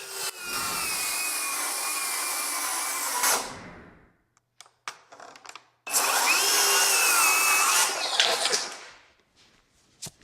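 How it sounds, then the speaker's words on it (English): A cordless circular saw powered by a Makita-style battery cuts through wood in two loud, close bursts, each a high whining buzz lasting a few seconds, separated by a short pause of clicks and handling noise. "Let's pop this into the saw and see if we can make the cut."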